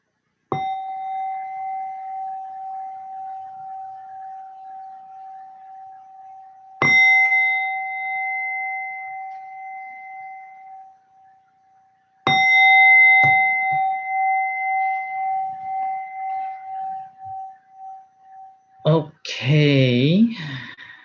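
A meditation gong or bell struck three times, each ring sustaining a clear tone and decaying slowly over several seconds, followed by a voice at the end.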